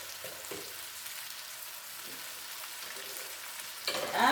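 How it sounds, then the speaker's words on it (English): Potatoes go into a sizzling pan of chicken curry, giving a low, steady frying hiss with soft stirring scrapes and a louder burst of sizzle at the very end. "now what we're going to do is add the potatoes"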